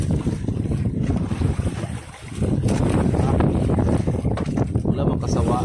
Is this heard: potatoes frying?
no